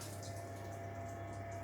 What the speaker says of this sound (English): So all that's left to do now is just top it back up with the RO water.